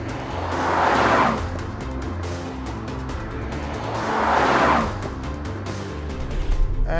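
A Lamborghini Urus on a winding high-altitude mountain road, its engine swelling in two strong passes as it powers through bends, with a steady rumble between them and a brief surge near the end.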